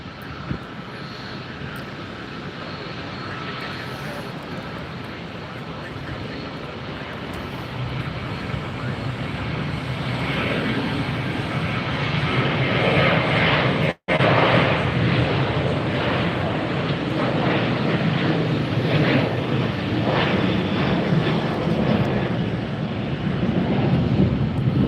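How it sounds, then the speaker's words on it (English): Southwest Airlines jet in special Colorado One livery taking off at Tampa International Airport, a loud sustained engine roar that builds and stays strong, heard from nearby with some voices underneath. "Southwest Airlines Special Livery Colorado 1 taking off right before us."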